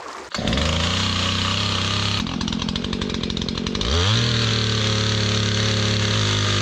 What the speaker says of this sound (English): Okay, I need to sharpen my chainsaw.